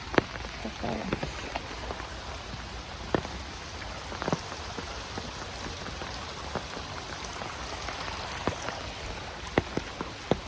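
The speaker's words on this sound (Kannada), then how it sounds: "ಫುಲ್ ಬಾರ್ಸ" Heavy monsoon rain falls in a steady, dense hiss with scattered sharper drop taps on nearby surfaces, continuous throughout and without any voices.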